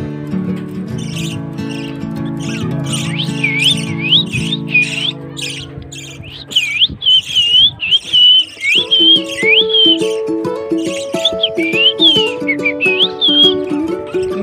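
A person whistles to call a pet parrot, giving repeated rising and falling whistle phrases, loud and close, over a sustained tonal hum, and later answered by chirpy bird-like squawks.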